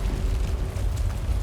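Gatequake rumble from the video game Death Stranding 2: a steady, loud low-frequency roar with no distinct impacts, filling the whole moment with continuous seismic drone.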